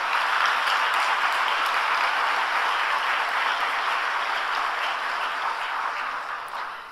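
Church congregation at a Friday all-night service gives warm applause welcoming a missionary pastor from Germany, a steady even roar of many hands clapping that holds for several seconds before easing slightly.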